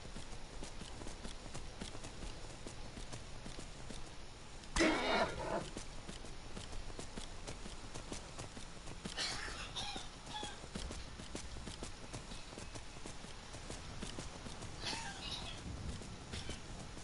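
Horse hooves clip-clopping in the video game Skyrim, a soft, steady patter of hoofbeats running throughout, with a few louder bursts standing out.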